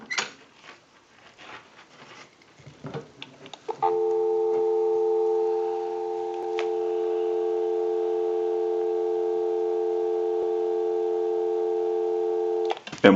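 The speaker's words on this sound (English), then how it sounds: "Go ahead and give you some dial tone." A single-slot payphone under repair gives a steady, loud dial tone that holds unbroken for about nine seconds, after some handling clicks and rustles.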